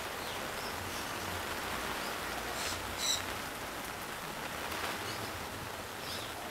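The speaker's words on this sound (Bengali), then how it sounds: "বৃষ্টি বৃষ্টি, সারাদিন বৃষ্টি।" Steady rain hisses down outdoors in a broad, even wash, with faint bird chirps here and there in the background.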